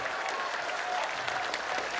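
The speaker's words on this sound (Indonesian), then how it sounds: "Tepuk tangan untuk Banser Taiwan" Steady, fairly dense applause from an audience at an Islamic religious gathering in Taiwan, even and continuous throughout with no voice standing out.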